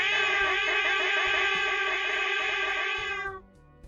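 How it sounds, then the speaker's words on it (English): A cat's meow rings out loud and close as one long, drawn-out wail lasting about three seconds before cutting off abruptly into quiet. "Cats!"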